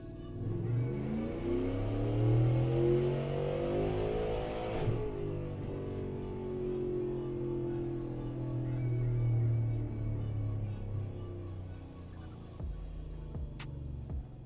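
A supercharged, cammed Chevrolet Silverado engine pulls on a dyno in third gear from 3,000 to 6,800 rpm, a loud rising rev for several seconds, then it drops off and winds down with a few clicks at the end.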